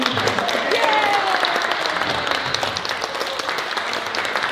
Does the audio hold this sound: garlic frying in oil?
no